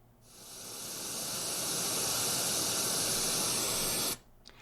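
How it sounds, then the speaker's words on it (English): Steady broadband white noise from an Echo Spot smart speaker fades in, holds constant and even for about four seconds, then cuts off abruptly, heard alone and close. "White Noise for 4 hours."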